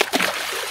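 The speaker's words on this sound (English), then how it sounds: "I'll let it get back in the water quick." A bull huss fish splashing back into the Bristol Channel: one brief, close splash that washes into steady watery noise.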